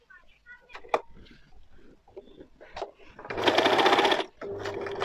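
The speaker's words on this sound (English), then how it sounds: "So guys, I'm sewing and I'm dragging it down, so you sew around the waistline." An overlock sewing machine runs in a short burst while stitching around a trouser waistline, a fast whirring buzz that starts after scattered handling clicks and soft talk, then pauses and resumes briefly.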